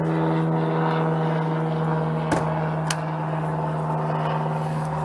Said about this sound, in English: Listen to the planes go over.